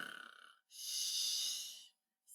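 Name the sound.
storyteller imitating a hare snoring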